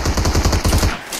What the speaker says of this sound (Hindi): इधर से गोली चली, पीछे से चली